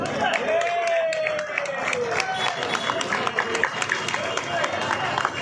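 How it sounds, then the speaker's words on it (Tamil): A crowd claps and cheers for a runner at a marathon in Madhavaram, with the applause rising and fading under a voice speaking over it. "ஒரு பெரிய கைத்தட்டல் கொடுக்கலாம்"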